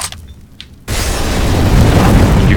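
Counter-Strike incendiary grenade igniting: after a quiet moment a sudden loud whoosh bursts in and settles into a sustained, crackling roar of fire that grows slightly as it burns on.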